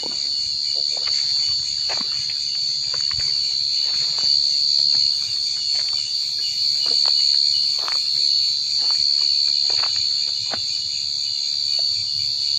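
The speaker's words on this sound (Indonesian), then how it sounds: "Tinggal suara nyamuk sama jangkrik." Steady, high-pitched cricket chirring fills a cold, deserted night, constant and close, with occasional faint clicks and soft movements beneath it.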